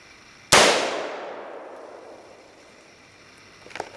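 An AR-15 rifle is fired once outdoors at a milk jug target. A single sharp, loud crack rings out with a long fading echo tail, followed by faint rustling a few seconds later.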